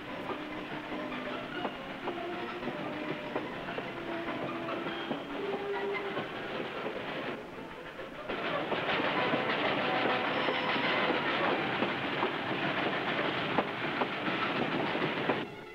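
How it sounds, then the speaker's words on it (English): California Western Railroad's Skunk steam train running on rails through the redwoods along the Noyo River, a steady rumbling roll with rhythmic wheel clatter that grows louder partway through, close and alone. "Skunk, the last regularly scheduled steam train in Northern California"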